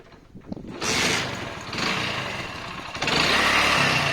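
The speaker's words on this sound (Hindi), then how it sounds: "अब हम लोग गाड़ी को चालू करके देख लेंगे।" A 2006 Hero Honda Splendor Plus motorcycle engine cranks and catches, then settles into a steady, rumbling idle that revs slightly up close.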